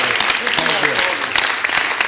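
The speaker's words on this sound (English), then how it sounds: "Let's clap for Rebecca." Audience at a library celebration applauding a children's contest winner, a short burst of steady clapping with some speech over it.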